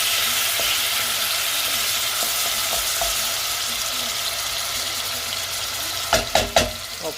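Tomatoes soften in a pan for a spicy lamb stew, giving a steady gentle sizzle throughout, with a few louder clatters and stirring knocks toward the end.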